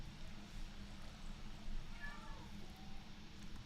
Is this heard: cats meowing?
yes